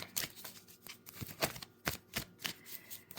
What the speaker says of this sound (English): One more romance card shuffle here.